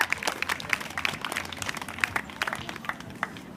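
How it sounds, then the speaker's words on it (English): An audience applauds at a rally against the tar sands, dense clapping holding steady for a few seconds with scattered sharper individual claps over the crowd. "Let's get a big round of applause for our incredible MC, Leah Guzan."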